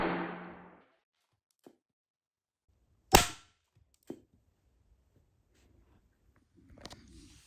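Pellet gun fired at a target, a single sharp loud crack followed by a fainter impact snap, with quiet handling noises around it and no talking.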